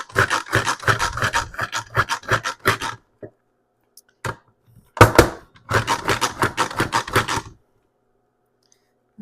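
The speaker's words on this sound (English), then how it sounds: "I'm going to put half of my onion in here. And I'm going to chop it up." A manual kitchen chopper dicing half an onion, bursts of rapid clattering plastic chops in two runs separated by a few isolated knocks and a short pause.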